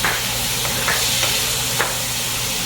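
Vegetarian bacon strips fry in a little oil, giving a steady close sizzle and hiss with a few light taps of stirring, and no talk.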